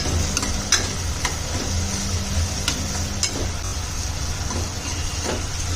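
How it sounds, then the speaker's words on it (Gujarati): Finely chopped onions sautéing over a medium flame in a pan while being stirred, a steady soft sizzle with faint scraping, over a low constant hum. "મીડિયમ ગેસ રાખવાનું છે ને ડુંગળીને આપણે શેડવી લેવાની છે"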